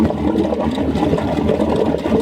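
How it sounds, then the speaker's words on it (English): Water gushes steadily from the heat exchanger outlet of a boat engine, a continuous close splashing flow with a faint mechanical hum underneath. "there's really good water flow coming out"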